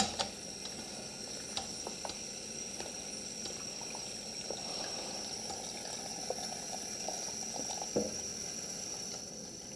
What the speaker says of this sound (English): fill the bladder to the 1 liter mark